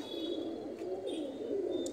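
A pair of traditional high-flying pigeons, male and female, give a soft, low, continuous coo that sounds faint and brief against quiet background noise.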